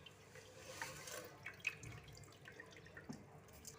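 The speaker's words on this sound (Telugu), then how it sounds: "6 గ్లాస్ ఆఫ్ వాటర్ వేయాలి." Water poured into soaked rice in an electric cooker for egg biryani, a soft, steady trickling and splashing that runs throughout at low level with small drips.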